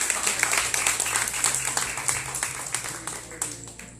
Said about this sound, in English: Can we clap for him again?